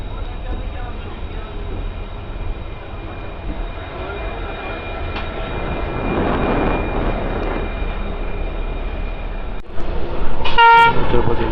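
A train departs Kotturu station behind an LHF WDG4 diesel locomotive on a diesel line, a loud steady rumble and rolling clatter building before a sharp horn toot near the end.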